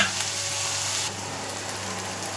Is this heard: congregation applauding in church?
no